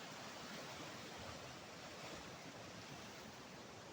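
Sea surf rolls steadily at Manly Beach in Sydney, a broad continuous wash of breaking waves heard close and fairly loud with no voices over it.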